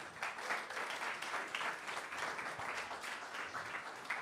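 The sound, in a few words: audience applause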